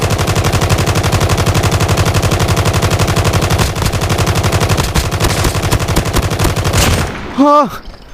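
Swordfish gun firing in Call of Duty Mobile, a loud, rapid, steady burst of closely spaced shots that runs for about seven seconds and then stops, followed by a brief tonal game sound.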